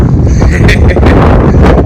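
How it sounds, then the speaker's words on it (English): Strong gusty outdoor wind buffets the microphone with a loud, constant low roar and brief rushing bursts. "It is a windy day."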